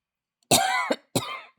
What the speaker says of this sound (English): cannot stop coughing today